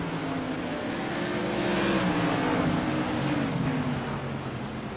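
Modified race cars circling South Boston Speedway, a blend of engine roars swelling as a pack passes close with rising and falling whine, then easing slightly as they move away.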